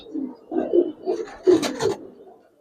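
A Giribaz pigeon coos close by, a series of soft, low throaty coos in uneven bursts with brief pauses between them, heard alone without voices.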